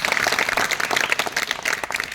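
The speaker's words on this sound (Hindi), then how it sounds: "बजा दो ताली इस बार।" An audience at a home remedy and yoga-style session bursts into clapping, a busy continuous patter of many hands that stays fairly even and moderately loud throughout.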